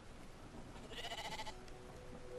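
A sheep bleats once in the video game Brothers: A Tale of Two Sons, a short wavering call heard fairly faint over quiet game ambience.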